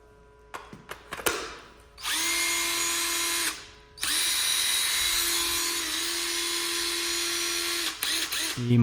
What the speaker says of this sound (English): a small Makita chainsaw, electric chainsaw